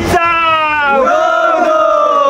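A crowd of devotees at the Ekvira Devi temple raises a loud, sustained chant-like cheer with a sliding, held collective voice, close and filling the whole moment.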